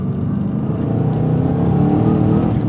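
Supercharged 2011 Chevrolet Camaro SS engine pulling hard under throttle, a loud, steady, low rumbling drone with a gradually rising pitch, heard up close with no talk.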